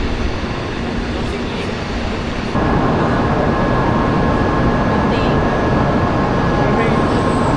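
Train in Japan, a steady loud rumble of rolling rail cars throughout with a tonal whine rising midway, voices faintly present under the noise.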